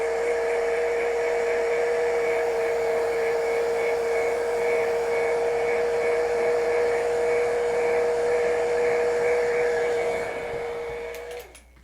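A hair dryer blows steadily to dry painted lettering, a loud continuous whine and rush of air that runs nearly the whole time before switching off and winding down at the end.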